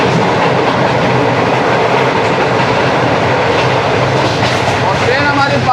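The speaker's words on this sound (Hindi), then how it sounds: "जा रही है शालीमार एक्सप्रेस" Inside the Shalimar Express AC Standard coach, a Pakistani passenger train at speed near Sher Shah Junction: a loud, steady roar of wheels on rails with clickety-clack, continuous and close throughout.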